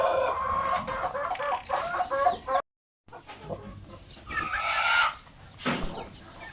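A rooster and a hen clucking and calling up close in several bursts, with a brief total silence midway; no talking.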